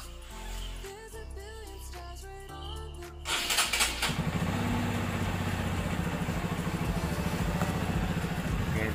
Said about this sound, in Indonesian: kita harus panasin dulu motornya guys